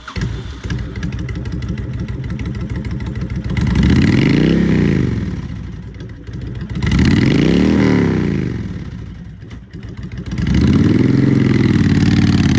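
A 2006 Honda VTX1300S V-twin cruiser motorcycle engine idles with a steady lumpy rumble, then revs up and falls back three times in smooth swells, loud and close with no talk.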